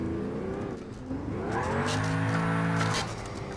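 A racing video game car engine revs hard and climbs in pitch, with wheelspin and tire noise as the revs rise and fall.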